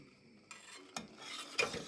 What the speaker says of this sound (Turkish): Şöyle delikli bir kevgir yardımıyla pirinçleri kırmadan biraz karıştırıyoruz.